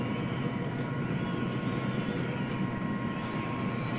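Helicopter in the military video game ARMA 3 flying over a battlefield, a steady droning rotor and engine hum held at constant loudness with a faint tonal whine.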